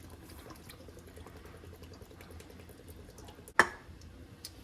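Canned ingredient, one 11-ounce can, poured into a cooking pot, a soft steady liquid trickle and glug running throughout, with a single sharp clank of the can against the pot near the end.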